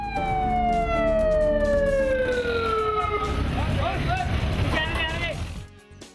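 An ambulance siren wails loud and near, its falling tone sliding downward before breaking into wavering whoops, then cutting off sharply near the end amid traffic noise.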